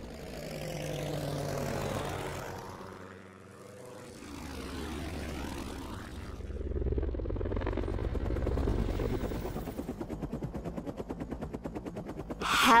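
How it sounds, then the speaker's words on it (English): A helicopter in flight with a steady rotor drone that swells and fades, turning into fast, close, loud chopping toward the end, with no voices. "Helicopter."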